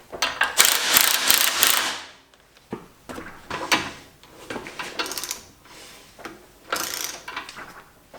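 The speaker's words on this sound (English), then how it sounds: "we torque these to 40 foot-pounds" Torque wrench tightening bolts on a Mopar K-frame for a 1974 Dodge Challenger to 40 foot-pounds, giving loud ratcheting, clicking bursts in several separate runs close to the microphone, with no talking.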